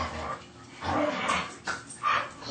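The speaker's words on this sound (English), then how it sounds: "Those are the dogs in the background." Dogs whimpering and yipping in the background, several short rising whines spread over a couple of seconds, faint and somewhat distant, with a low murmur underneath.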